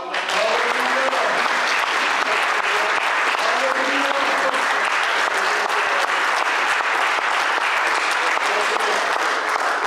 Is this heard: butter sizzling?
no